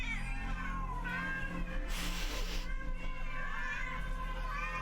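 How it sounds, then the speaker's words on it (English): Many hungry cats meow in a horror video game, overlapping yowls and mews layered continuously across the whole stretch, fairly loud and close, with a brief burst of rustling noise midway. "Oh, so many cats!"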